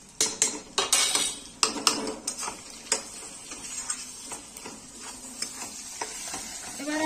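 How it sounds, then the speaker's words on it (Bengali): Spices such as chilli powder, turmeric and coriander powder being stirred and fried in a pan for chicken biryani, with a run of sharp spoon-on-metal scrapes and clinks near at first, then softer stirring over a steady sizzle. "এবার আমি এগুলোকে ভালো করে কষিয়ে নিচ্ছি"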